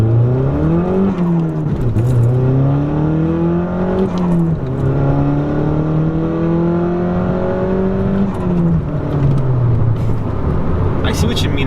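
A modified Volkswagen GTI MK6 accelerates hard in first gear, its engine note climbing and dropping through several revving pulls, loud and close from inside the cabin, with people talking over it.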